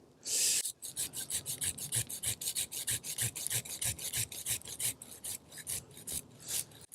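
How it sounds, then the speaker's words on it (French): A hand saw rasps steadily through an apple tree branch up close, quick regular back-and-forth strokes that keep a brisk, even rhythm for several seconds. "Ça, c'est trop gros pour mon sécateur. Je vais être obligé de prendre ma scie"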